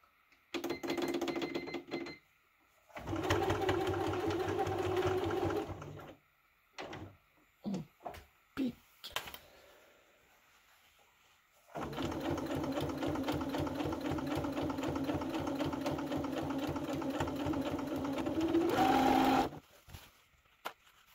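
Sewing machine stitching fabric for a wrap top, rapid mechanical bursts of several seconds separated by pauses and small clicks and handling noises, close and clear.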